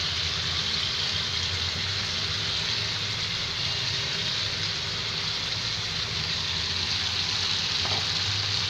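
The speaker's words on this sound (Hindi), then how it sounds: "अब इसको लगातार चलाते हुए भूनेंगे जब तक ये जो पीसे हुए चने इनका रंग चेंज ना हो जाए" Ground black chickpeas sizzle and fry in a pan while being stirred constantly, a steady close hiss with faint scraping and no voices.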